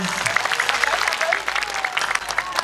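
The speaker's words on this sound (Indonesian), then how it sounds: "tepuk tangan" Audience applause at a comedic religious gathering, a brief burst of steady clapping from a crowd, moderately loud, with a voice speaking over it.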